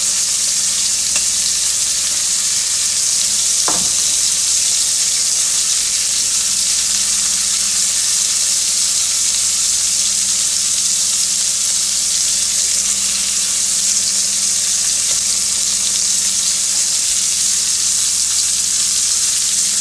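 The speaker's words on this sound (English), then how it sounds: "So we're going to sear it," Food searing in a hot pan gives a loud, steady hiss and crackle that runs unbroken and close throughout, with one brief clink near the start.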